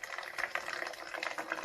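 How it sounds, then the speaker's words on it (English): Water squeezed by hand from an upside-down Mylar bag through a Sawyer Squeeze filter, a steady close hiss of liquid that rises and falls gently with the pressure. "just turn it upside down, as such, and just squeeze the Mylar water bag gently"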